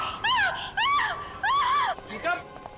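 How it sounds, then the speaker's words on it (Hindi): A woman screams during a tense TV crime drama scene, four long wavering high-pitched cries in quick succession, loud and close, with no talk over them. "क्यों चिल्ला रही हो?"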